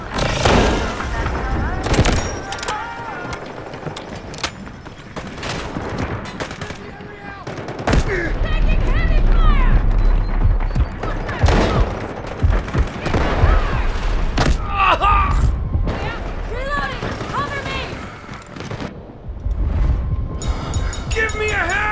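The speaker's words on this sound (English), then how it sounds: "Grenades launched!" Grenade launches and explosions in the Delta Force shooter game, a dense, loud run of booms and gunfire bursts that swells after the midpoint, with character voices shouting over the battle.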